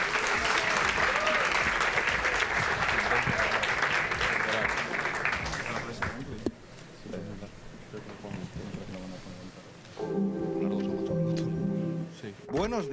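A crowd at the Tartanga Master Championship gaming event in 2025 claps loudly and steadily for about six seconds. The applause then drops to quieter ambience, and music rises near the end.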